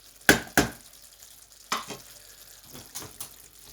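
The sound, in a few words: onion frying in a pan for lamb keema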